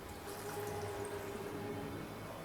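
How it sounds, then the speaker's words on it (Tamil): Half a cup of water pours steadily into a pot of jamun fruit set on a stove, giving a short, even trickle with no talk. "இப்போ இதில் நான் ஒரு அரை கப்பு தண்ணி சேர்க்க போகிறேன்."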